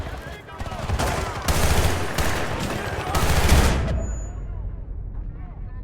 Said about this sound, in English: The crack of the guns, the booms, the whole rocking of the camera.